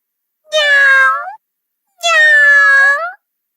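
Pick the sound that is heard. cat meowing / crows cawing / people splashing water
cat meowing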